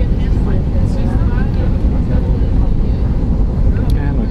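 Novair airliner on final approach into Preveza Aktion airport, heard from inside the cabin as a loud, steady roar of engines and rushing air with no letup.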